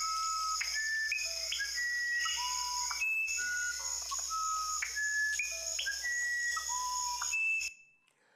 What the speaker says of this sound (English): Now, this is a musician wren. It's found in Amazonian Peru.